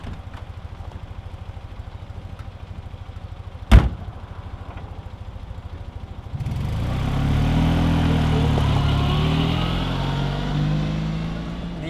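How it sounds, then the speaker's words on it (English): A classic restored FIAT 500 engine putters at a low, even idle, broken by one sharp knock partway through. It then swells into a fuller, rougher drone as the little car gets under way. "The engine purrs away quite nicely, really."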